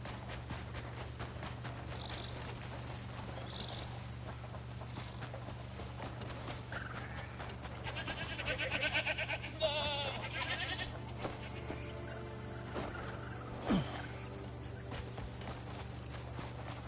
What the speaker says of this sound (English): I gotta bring in like an actual goat to slaughter.